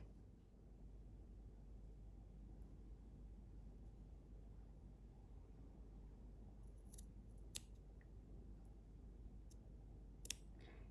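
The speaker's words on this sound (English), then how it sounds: "some sharp scissors and we're going to cut along the purl stitches that we've made a nice column of" Sharp scissors cut down a column of purl stitches in knitted fabric, snipping with a couple of sharp clicks over a quiet, steady background hiss.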